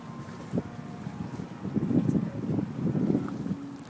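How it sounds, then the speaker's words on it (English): Strong wind blowing outdoors, rumbling and buffeting against the microphone in low gusts that swell and grow heavier partway through, with no talk. "This wind is so strong"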